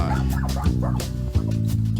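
A puppy yips and whines in short, harmonic bursts, close by and fairly steady over a couple of seconds, with a slightly louder yelp near the middle.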